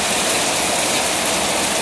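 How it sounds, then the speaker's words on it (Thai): Heavy rain pouring down behind a house in Thailand, a dense, loud, unbroken hiss of water with no voices. "บรรยากาศฝนตกหลังบ้าน"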